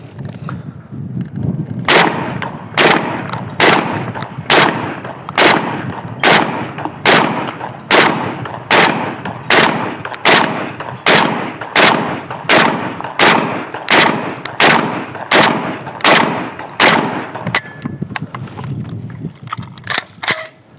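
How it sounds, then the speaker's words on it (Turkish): A 12-gauge shotgun fitted with a drum magazine fires about twenty shells in a steady rapid series of loud, sharp blasts close by, each report evenly spaced with no talking in between. "Görmüş olduğunuz gibi 20 tane fişeyi sorunsuz bir şekilde attı."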